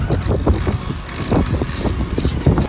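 A 3/8-inch ratchet loosens bolts on the intake manifold of a modified Ford Focus ST during a catch can install, giving rapid clicking pawl bursts and mechanical clatter close to the microphone, with no talk.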